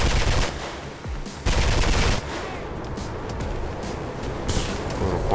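Rapid submachine gun fire in the Mirror's Edge video game, loud bursts that start and stop, set against steady game background noise.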